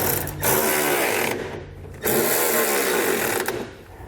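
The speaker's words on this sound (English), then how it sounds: "So we're going to use a 13mm socket. We're going to tighten these both down across all 3 of our brackets." A 13mm socket ratchets while tightening bolts on truck running board brackets, a close, steady mechanical whirring broken by two brief pauses.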